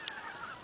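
Geese honking in flight over Bulgaria during a goose hunt, a brief distant call set against steady wind and open-air noise.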